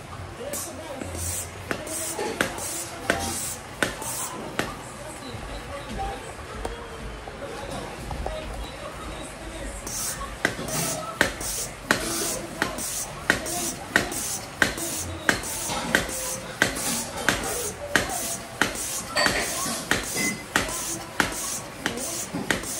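A hand pump fills a long airgun tank in steady, rhythmic strokes, each a sharp puff of air that grows louder and more regular over time, with someone talking during the pumping.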